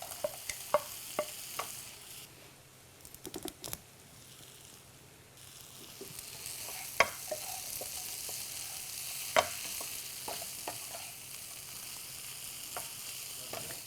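Fried chicken tipped into a pan of masala with yogurt and stirred, a soft continuous sizzle broken by sharp spoon taps and clatters against the pan, close by and fairly quiet, no talking.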